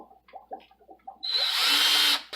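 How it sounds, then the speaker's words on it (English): Cordless drill boring a vent hole into a ceramic aquarium ornament, a loud sustained whine bursting in after a few faint taps and clicks and running for about a second before cutting off. "either a cordless drill and assortment of drill bits to go ahead and put a hole in the"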